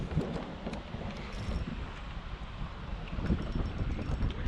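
Steady wind buffeting across a lake while fishing from a boat, a continuous rushing noise with microphone rumble and no talking.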